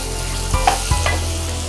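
Half-moon slices of onion fry in a hot pan with a steady, close hiss, broken by a couple of brief clicks from stirring, with no voices.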